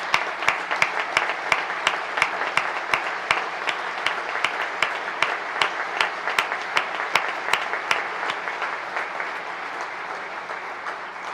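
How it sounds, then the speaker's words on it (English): A large audience at a state address applauds the students with sustained, dense clapping that holds steady for several seconds, then fades slightly, with no voices over it. "give yourselves a round of applause"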